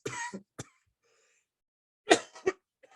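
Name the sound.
cough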